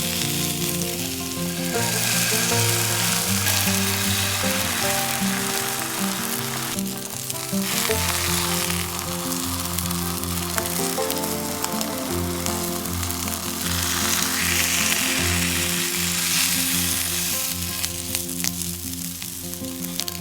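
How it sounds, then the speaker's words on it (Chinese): A rolled sushi wrapped in bacon and egg pan-fries, a loud continuous sizzle and crackle close by that rises and falls over twenty seconds, with occasional stirring and nudging in the pan and no voices. "可以煎得久一点。"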